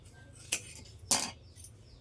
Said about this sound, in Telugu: ఇప్పుడు ఈ క్లాత్ స్ట్రేట్గా ఇక్కడికి చూసుకొని నీట్గా కట్ చేసుకోండి.